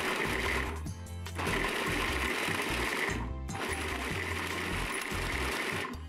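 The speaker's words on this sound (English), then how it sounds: "I'm going to put it in my food processor." A food processor grates chunks of Parmesan cheese, a loud, close, continuous motor whir with a rattling drone, briefly dipping twice as the blades bog down or pause before resuming.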